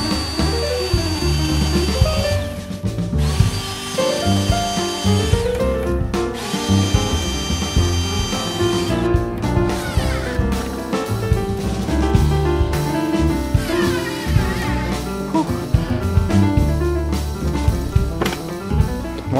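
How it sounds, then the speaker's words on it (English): A power drill whirs loudly in repeated bursts, motor pitch rising and falling as it bites in while mounting a closet rod bracket, close by with no talking. "so let's get drilling"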